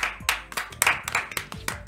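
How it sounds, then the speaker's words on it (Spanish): A small group claps on a Chilean TV variety show set, with brisk, uneven hand claps close by for a couple of seconds and no talking. "¡Fuerte el aplauso!"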